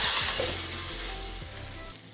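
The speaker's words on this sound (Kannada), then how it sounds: "ಕಿವುಚಿಟ್ಕೊಂಡಿರೋ ಟೊಮಟೆ ಹಣ್ಣು ಇವಾಗ ಹಾಕೋತಾ ಇದ್ದೀನಿ" Boiled, mashed tomato pours into hot oil tempered with mustard seeds and cumin, bursting into a loud, steady sizzle that gradually settles over about two seconds, with no voices.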